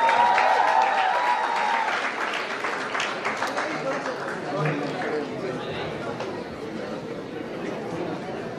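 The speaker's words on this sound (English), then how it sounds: "Please give it up for Kaushik Vikas." A crowd at the grand launch of the BacXtage Season 1 show breaks into lively, sustained clapping mixed with cheering and chatter, loud at first and holding steady as voices carry through the noise.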